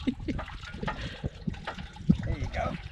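Windmill-pumped water pouring and splashing out of a pipe at a Nullarbor camp, a close, uneven trickle heard under people's talk.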